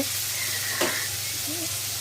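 Rohu fish frying in a pan gives a steady, close hiss of oil with one brief louder crackle partway through and no voices.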